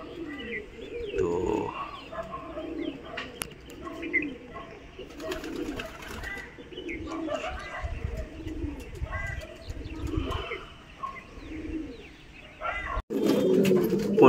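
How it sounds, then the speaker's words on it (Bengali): Newly released young pigeons coo in low, repeated murmurs among rustling and brief chirps outdoors, with a louder, closer burst near the end. "এগুলো বাচ্চা পায়রা একদম নতুন, তো এইগুলোকে ছাড়া হয়েছে।"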